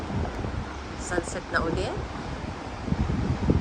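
Gusty wind after a heavy rainstorm with thunder and lightning, a steady blustery rush buffeting the microphone outdoors while a voice speaks briefly and children's voices come and go.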